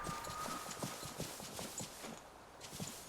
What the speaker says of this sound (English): riding on a horse is a lot faster